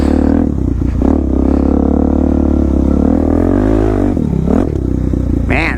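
A Suzuki DR-Z motorcycle ridden off-road through mud, its engine loud and close, droning steadily with revs rising and falling and a sharp rev near the end, with no talking.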